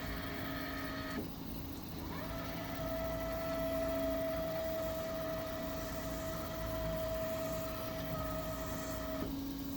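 An electric trolling motor spins its propeller near a boat, giving a steady tonal whine with a distinct pitch that shifts and drops at a few points, loud and continuous without talking.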